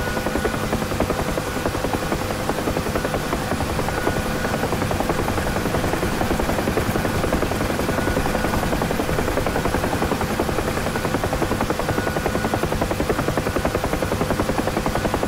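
Huey helicopter in a flight simulator game, with a steady, loud rotor chop and engine drone running unbroken throughout.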